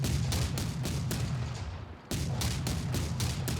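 A C-302 30mm chain gun with a drum magazine fires in the TerraTech game mod, loud rapid evenly spaced heavy shots, with a brief break of a fraction of a second before the rhythmic burst resumes.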